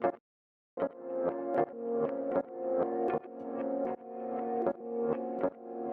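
Omnisphere guitar melody in a dark tone, treated with reverb, a low cut EQ and stutter effects, with rhythmic plucked chords that cut in and out in choppy bursts and a brief silent gap near the start, heard with no voices.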